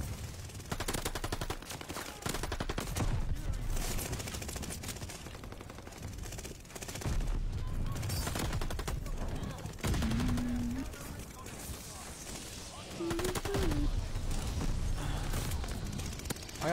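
Blixen gun fire in a ranked video game match comes as dense, loud, almost unbroken rapid bursts and blasts that run the whole stretch with hardly a pause.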